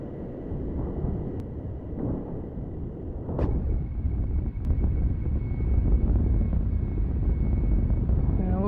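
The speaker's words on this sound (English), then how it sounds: "Looks like from here on we're going to be relying on the liquid fuel burning mode of our engines." Aircraft engines running in the Kerbal Space Program video game, a steady broad low roar that swells slightly louder partway through and holds, with a brief tonal sweep near the end.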